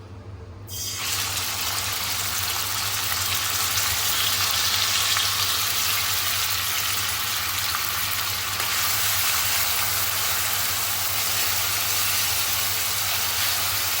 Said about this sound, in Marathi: तेल गरम झालेलं आहे कांदा घालते